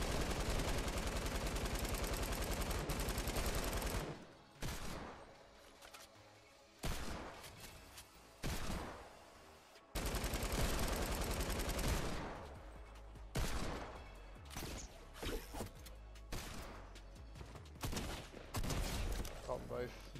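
A light machine gun firing long continuous bursts in Fortnite, loud and rapid, broken by brief pauses between volleys, with talk over parts of it.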